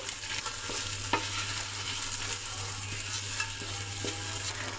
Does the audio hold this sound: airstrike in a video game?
no